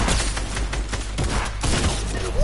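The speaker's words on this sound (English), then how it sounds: "I'm getting sniped at." Sniper fire in the Fortnite video game, a string of sharp cracks spaced irregularly across a couple of seconds, loud and close with no talk over them.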